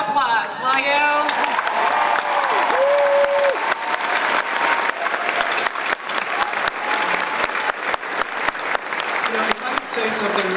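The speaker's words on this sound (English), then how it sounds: "Give them a huge round of applause, will you?" Comic Con panel audience breaks into loud, sustained applause with cheering and scattered whoops filling a large convention hall, a few voices calling out over the clapping.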